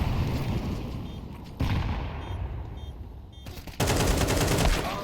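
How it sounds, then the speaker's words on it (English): Bursts of gunfire in a tactical shooter game come in several loud, sharp volleys separated by brief dips, close and dominant, with little talk. "you instantly started shooting after you peeked"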